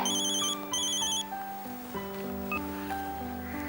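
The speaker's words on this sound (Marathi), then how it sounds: "ए दीदी तुला फोन आलाय" A phone ringtone plays a bright electronic melody, steady and close, with no voices.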